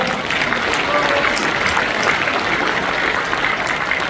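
Sustained applause from an audience at a Democratic Party members' rally in an auditorium in Naju, a dense, even wash of clapping that stays loud throughout, with faint crowd murmur beneath.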